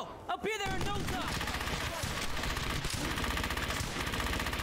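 Rapid, sustained machine-gun fire in the World War II shooter Brothers in Arms: Hell's Highway, loud continuous bursts of rattling shots filling the scene, with a shouted voice and other battle noise at the start.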